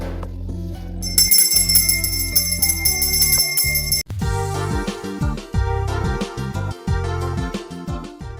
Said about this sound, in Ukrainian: цей дзвінок сповістить вам про те, що школа закінчена